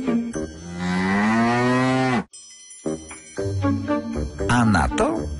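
A cartoon purple cow moos in a chocolate cookie commercial, with a long, loud, drawn-out low moo followed after a short pause by a second bellowing moo over background music.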